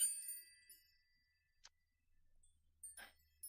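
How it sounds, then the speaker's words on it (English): A small meditation bell rings out with a clear, shimmering tone that fades away quietly, followed by a soft tap and a faint brush of movement in a quiet room. "That's a little meditation bell to remind us to stay relaxed"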